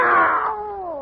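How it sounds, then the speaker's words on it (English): A cat meows as a radio-play sound effect, one long, loud, drawn-out meow that starts high and slides downward as it fades, heard alone and close. "It's a cat, Miss Brooks."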